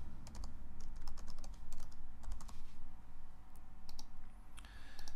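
Fingers tap out a username on a computer keyboard, giving quick, close, irregular key clicks in short bursts over a steady low background hum, with no talk.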